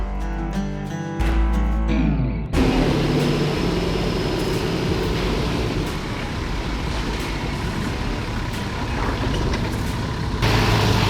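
A 4WD's tyres are aired down beside the vehicle before tackling the Little Red track, a steady hiss of escaping air running close and loud over a low idling engine, with no one speaking.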